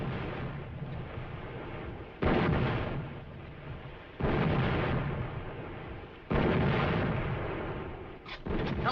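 Naval artillery fire from a warship flagship pounding a shore target, rendered as heavy, sustained rumbling roars with three sudden loud booming volleys at roughly two-second intervals, each decaying into continuous thunderous background fire.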